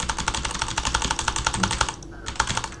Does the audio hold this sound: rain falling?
no